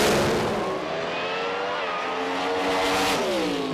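Drag race car in a nitrous, supercharged or Pro Stock-style class at an IHRA nationals, its engine roaring loud and steady at full throttle, the pitch wavering as the tires shake and the driver lifts off.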